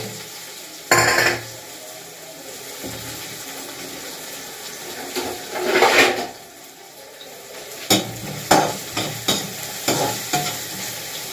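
Chopped onion and asafoetida frying in a pan while being stirred, with a low steady sizzle broken by a few loud scraping bursts of a spoon against metal and a run of short clinks near the end.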